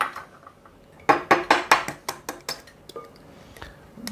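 Two eggs cracked and tipped into a bowl of salmon patty mixture with chopped onions, a run of sharp clinks and taps against the bowl following one after another, close and clear.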